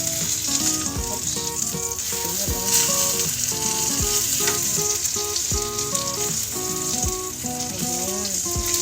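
Tortang talong, an eggplant omelette, fries in hot oil with a steady loud sizzle throughout, while bright music plays over the frying.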